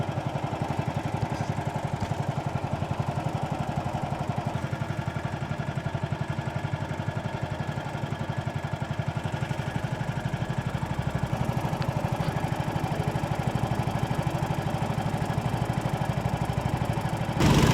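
A boat engine running steadily on the River Lee, a close, even mid-pitched drone with a slight rhythmic clatter, continuous throughout with no talking over it.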